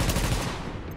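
A loud, rapid burst of automatic gunfire rattles close by, then cuts off into a fading echo.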